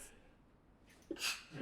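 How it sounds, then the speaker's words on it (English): A single quiet sneeze, a short burst of breath after a brief pause, with soft breathing around it in an otherwise still indoor room. "Only sneeze 3 times."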